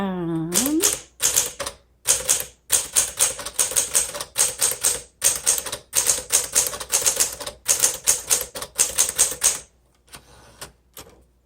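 Steady bursts of keystrokes on a 1964 Smith Corona Sterling manual typewriter, close and crisp, with short pauses between runs and a rising carriage-return-like sweep at the start.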